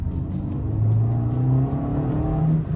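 Engine of a 2021 Fiat Strada Volcano pickup growling as it accelerates, a steady low hum rising in pitch with a mild throaty roar, heard from inside the cabin without talk.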